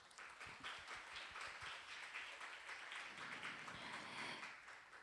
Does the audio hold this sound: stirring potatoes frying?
no